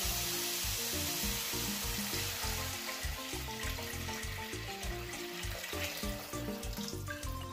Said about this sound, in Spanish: ya está frito y le echamos 1/2 litro de agua